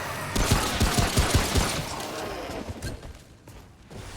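Rapid bursts of automatic gunfire in the shooter RPG Remnant: From the Ashes, with a dense volley of close, heavy shots in the first half that thins into scattered fainter reports and rumbling ambience.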